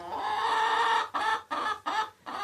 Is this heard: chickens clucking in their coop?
yes